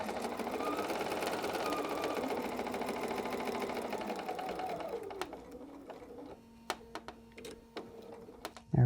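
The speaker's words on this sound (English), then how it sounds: "I'm going to sew right to the friction line and back stitch" A sewing machine stitches binding onto a 60-degree diamond table topper, humming fast for about five seconds before slowing, then a few sharp clicks and taps follow as it back stitches and stops.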